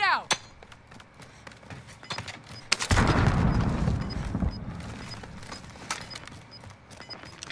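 A grenade explosion in a tactical shooter game: a sudden loud broadband blast that booms and rumbles for a couple of seconds before fading, with scattered gunfire and game sounds around it.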